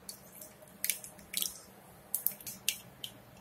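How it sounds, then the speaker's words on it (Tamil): Mustard seeds spluttering in hot oil in a pan while cooking poori masala: scattered sharp pops and crackles in small bursts over a faint low background, no talking. "கடுகு பொரிஞ்சிருச்சு, கடலைப்பருப்பு போட்டுடலாம்."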